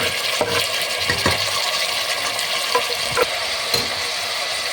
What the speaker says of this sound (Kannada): ಈಗ ಟೊಮೊಟೊ ಆ್ಯಡ್ ಮಾಡ್ತಾ ಇದ್ದೀನಿ. ಜೊತೆಗೆ ಪುದೀನನ ಕೂಡ ಸೇರಿಸ್ತಾ ಇದ್ದೀನಿ